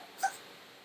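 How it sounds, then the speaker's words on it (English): A puppy lets out one short, soft whimper just after waking, brief and close, with quiet room tone before and after. "hi, you're my puppy. He just woke up."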